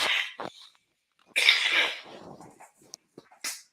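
A few sharp, breathy bursts close to the microphone, a cough and a sneeze-like expulsion, separated by short silences, from a man still getting over COVID.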